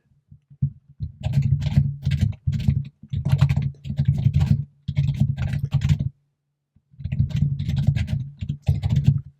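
Loud, close computer keyboard typing in rapid bursts of keystrokes, several runs separated by short pauses, with no voices over it.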